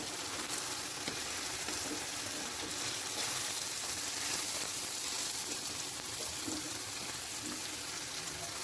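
Potatoes poured into a hot oiled frying pan for a skillet potato gratin, giving a steady, fairly soft sizzle that stays even and continuous throughout, with no talking.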